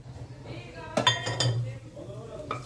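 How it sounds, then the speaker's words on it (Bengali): Spices are stirred in hot oil in a pan: a bay leaf, a whole dried red chilli and five-spice seeds. A utensil clinks sharply against the pan a few times over a low sizzle. "দিয়ে সব মশলাগুলো একটু নাড়াচাড়া করে নিচ্ছি তেলে"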